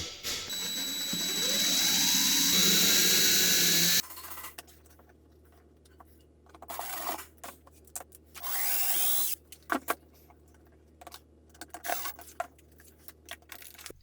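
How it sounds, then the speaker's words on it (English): A power drill whines steadily for a few seconds, pitch rising as it bores a pilot hole in an arcade cabinet, followed by intermittent scraping and short bursts of handling noise. "So I'll drill a little pilot hole and screw it on."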